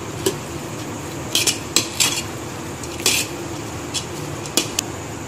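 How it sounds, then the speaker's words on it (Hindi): A spoon mixes mutton broth into rice in a metal pot for Arabian-style mandi, producing scattered clinks and scrapes over a low background hiss, moderately loud with no talking. "ये जो शेरवा हमने गोश का रखा था उसको अच्छे से इस पर डाल देंगे और फिर थोड़ा सा इसको मिक्स कर देंगे"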